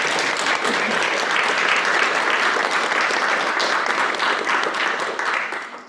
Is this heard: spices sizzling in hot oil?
no